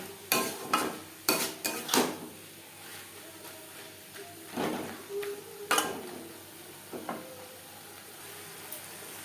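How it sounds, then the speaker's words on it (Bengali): Garam masala and fried spice powder stirred into a chicken patty filling in a pan, a spoon scraping and clinking in short bursts with quiet pauses and a faint sizzle beneath. "গরম মশলা পাউডার পুরের সাথে বেশ ভালো করে মিক্সড করে দেব"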